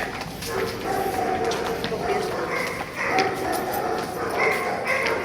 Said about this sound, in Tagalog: May aso na, ah.